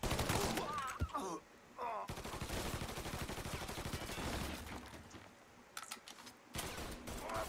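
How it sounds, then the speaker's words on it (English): Enemy gunfire in the Mafia 3 video game: bursts of rapid automatic shots crackle in clusters separated by brief pauses, fairly faint and mixed with other game noise and a voice. "Ah, fucker won't stop shooting."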